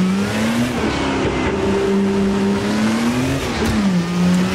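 A hill-climb race car at the 2017 Sabran course, heard from on board, its engine held high between 5,000 and 10,000 rpm, a loud sustained howl with brief dips and swells in pitch.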